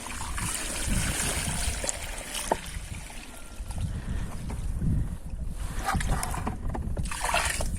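Ten litres of heteroauxin solution dissolved in warm water is poured onto a freshly transplanted Jubile du Prince de Monaco rose, giving a continuous splashing trickle of water into soil with a few louder gushes.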